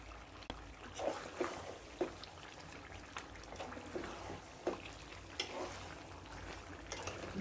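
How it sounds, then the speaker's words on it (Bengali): Mutton sizzles and is stirred in oil in a pot over lowered heat while cooking for biryani, a soft continuous frying hiss broken by periodic scraping stir clicks, fairly quiet and close. "এখন আমি জালটা একটু কমিয়ে দিয়ে এই তেলের ভেতরে গোস্তটা আরো কিছুক্ষণ কষিয়ে নেব।"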